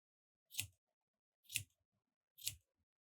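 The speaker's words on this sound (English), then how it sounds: "Just snipping off the top so it's not quite as long as yarn pieces" Scissors snip yarn pieces three times to trim a craft turtle shell, each cut a crisp, short close snip about a second apart in otherwise near silence.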